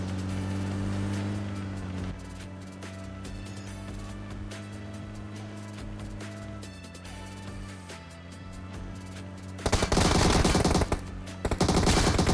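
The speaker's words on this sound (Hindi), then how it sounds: "तो फिर हमारे टाइगर भैया ने इनको MK14 से स्वाहा कर दिया।" MK14 rifle gunfire from PUBG Mobile, a sustained run of loud shots over steady game music, with a denser, harsher burst near the end.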